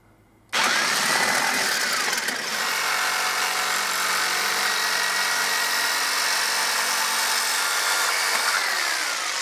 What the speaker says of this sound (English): So basically we're cutting along that line there, round there and there.